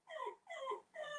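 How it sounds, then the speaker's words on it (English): A dog whines in three drawn-out, high-pitched bursts separated by short pauses, close and fairly soft. "that's the dog whining"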